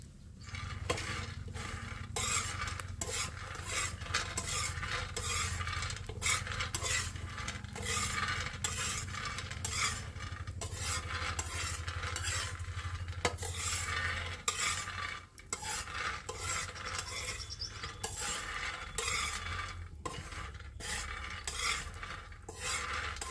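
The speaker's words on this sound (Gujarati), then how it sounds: "તાવડી ગરમ થઈ ગઈ છે તો એમાં આપણે સિંગદાણા શેકી લઈશું" Peanuts roasting in a hot tava over a rustic village stove, stirred continuously with a scraping, rattling rhythm and faint sizzle, a close, steady sound for over twenty seconds without speech.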